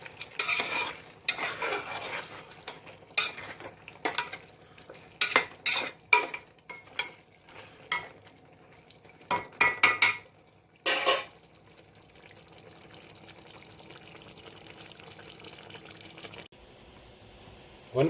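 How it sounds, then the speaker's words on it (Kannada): Green masala for chicken biryani is stirred in a pot, with a run of uneven scraping and clattering strokes against the metal that gives way to a quiet low simmer. "ಮಧ್ಯದಲ್ಲಿ ಒಂದೆರಡು ಮೂರು ಸಲ ಹಂಗೆ ತಿರ್ಸ್ಕೊಳ್ಳಿ"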